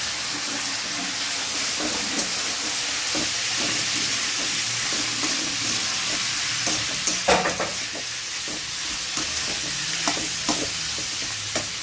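Turmeric, black pepper and spices are stirred into sabudana poha frying in a pan: a steady close sizzle broken by scattered scraping and clinking strokes of the spoon, with no voices.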